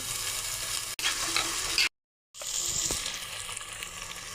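Green chillies and curry leaves sizzle and fry in a pan of sautéed base for fish curry, a steady loud crackle with stirring, broken by a brief dropout midway.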